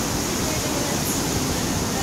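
A river rushes beneath a bridge near Bridal Veil Falls, Utah, a continuous broadband roar of flowing water that stays loud and even throughout.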